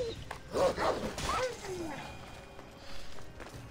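A dog in Assassin's Creed Odyssey gives a quick cluster of sharp barks and yips that tail into whimpering, fairly close, with faint game ambience behind.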